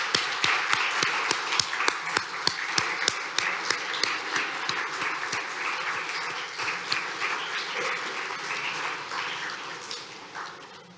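An audience at a chordoma community conference applauds the staff, starting with crisp, distinct claps that merge into steady, moderately distant applause and then taper off at the end.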